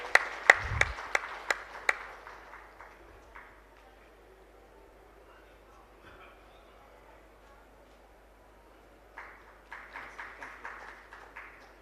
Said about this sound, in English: May I request you to please welcome them with a huge round of applause.